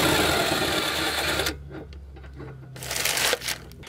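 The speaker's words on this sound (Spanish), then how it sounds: "simplemente quitamos el tornillo de 21" Ratcheting and wrenching as a 21 mm bolt is undone on an original Audi stabilizer link from a 1.8T, a dense mechanical rattle that cuts off midway, then sparse clicks and a final burst of metallic clatter.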